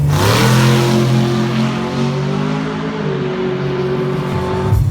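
A 1000 hp sleeper Chevy El Camino with a nitrous-fed 350 pulls hard, its loud engine note climbing steadily through the gears in one sustained, close roar that eases slightly near the end.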